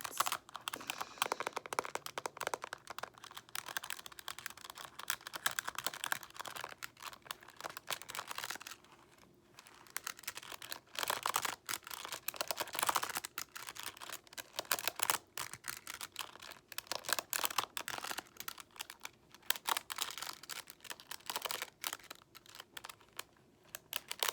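Calculators being scratched and their buttons pressed, including a Texas Instruments model, in a continuous run of dense, close-up scratchy clicks and taps with brief pauses and no talking.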